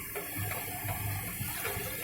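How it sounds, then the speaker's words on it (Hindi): Water poured into maida flour while mixing namak pare dough, a steady low splashing and trickling pour running for about two seconds at moderate level. "और इसमें पानी भी डालेंगे"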